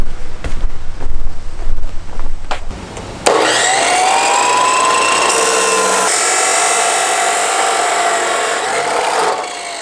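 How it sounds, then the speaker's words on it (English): A power tool cutting DOM steel tubing for an RX7 subframe: a brief clatter, then a loud, steady high-pitched whine and grinding screech that runs unbroken for several seconds, close and without talk. "So let's cut a piece of the DOM tubing that we got from Logan Steel right here."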